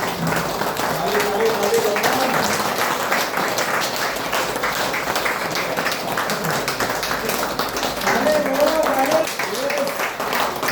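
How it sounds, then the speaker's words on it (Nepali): An audience on a stage-event floor gives a leader sustained clapping, a dense continuous wash of applause lasting about ten seconds, with voices and some tonal sound mixed in. "एकचोटि जोरदार तालीले"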